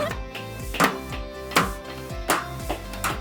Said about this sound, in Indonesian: Efeknya ya suara besi yang dipukul kayak gini nih